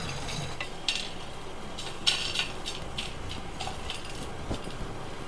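Roasted amla mixture being scraped and transferred into another pot, with intermittent metallic clinks and scrapes of a utensil against cookware over a steady low background, no talking.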